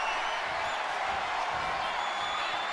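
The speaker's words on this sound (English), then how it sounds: "The fans here at Hartford, Connecticut, going absolutely crazy in this sold-out crowd." A sold-out wrestling arena crowd in Hartford, Connecticut, roars continuously during a match, a dense sustained wall of cheering and yelling that stays loud and even throughout with occasional thuds underneath.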